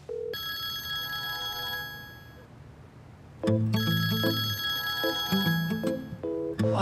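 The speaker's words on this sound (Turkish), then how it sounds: "Aç şu telefonu." A telephone rings in a Turkish TV comedy scene, a bright electronic ring tone sounding in two bursts with a short pause between them, fairly close and clear with no talk over it.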